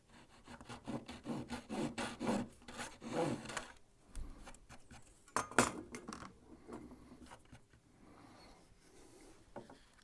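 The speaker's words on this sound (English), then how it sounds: "Little bit of sandpaper on the top just to finish it off" Sandpaper rubs back and forth over the tops of wooden fence palings in a run of quiet, close scratchy strokes, pausing and then resuming in softer, scattered passes.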